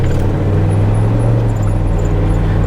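A Squarebody truck with a TH400 automatic transmission drives on a test run, giving a steady, loud low engine drone and road rumble throughout with no talk.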